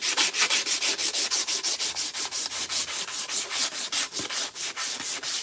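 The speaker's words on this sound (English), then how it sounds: "the finish work, the sanding of the blade" Steady rhythmic strokes of abrasive paper rubbing along a knife blade during finish work on a custom knife, about two strokes per second, close and fairly loud, with no voices.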